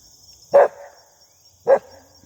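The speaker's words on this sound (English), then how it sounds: "They bark at everything." A dog gives two short, loud barks about a second apart against a quiet outdoor background in a southern garden.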